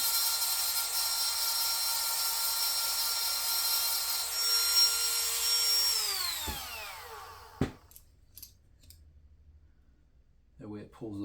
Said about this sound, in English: I grind right here